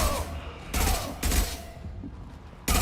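Video game gunfire as a player aims a BR-type rifle, with loud, sharp bursts of shots separated by short pauses, close and dominant.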